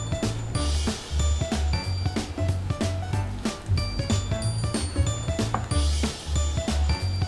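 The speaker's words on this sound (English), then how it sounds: "Mom's gonna help me do a little bit more stirring." Thick homemade playdough mixture being stirred in a pot, a steady rhythm of close scraping and knocking strokes with small clinks, fairly loud and repeating throughout, no voices.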